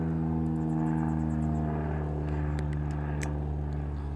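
A propeller plane droning steadily in a video game, a loud continuous engine hum filling the whole stretch with a few faint higher clicks and blips on top.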